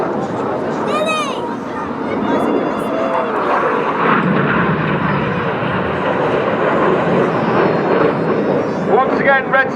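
RAF Red Arrows jets roar overhead at a seaside airshow while flying the Cyclone manoeuvre, a broad rumbling engine noise that swells and recedes, heard under a commentator talking over the public address.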